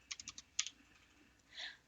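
Quiet clicking keystrokes on a computer keyboard: a short burst of several quick taps, a brief pause, a couple more clicks, then a softer, longer clatter. Recorded close and faint, with no talking.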